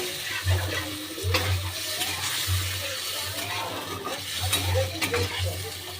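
Prawns stir-fried in a pan sizzle steadily, with scraping and stirring strokes and short bursts of louder frying over a low hum, close and moderately loud.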